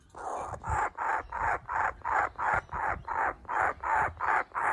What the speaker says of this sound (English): That's a nice kookaburra